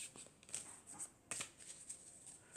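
Oracle cards from a triad deck are shuffled by hand in a few soft, papery bursts of riffling and sliding, quiet and close, with no voice.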